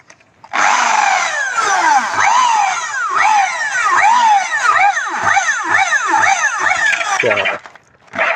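A power tool whines loudly and steadily for several seconds, its pitch wavering as it bites into material, close by.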